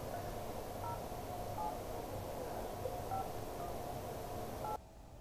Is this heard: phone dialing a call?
yes